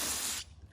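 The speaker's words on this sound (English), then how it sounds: "I'm gonna spray a little cleaner in here" A short, loud hiss of aerosol cleaner is sprayed into a threaded stud hole on a 1999–2004 Ford Mustang hood, cutting off abruptly after about half a second.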